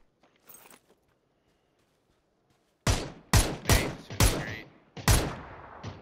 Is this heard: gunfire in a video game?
yes